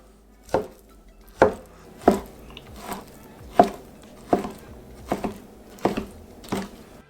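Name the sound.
knife chopping chicken fillet on a board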